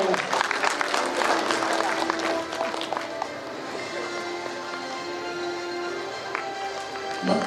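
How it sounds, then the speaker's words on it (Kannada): An audience at a Lions International literary gathering breaks into sustained applause, a dense continuous patter of many hands clapping for several seconds. "ಚಪ್ಪಾಳೆ ಮೂಲಕ ಜನ್ನಿ ಸರ್ನ ಅಭಿನಂದಿಸೋಣ"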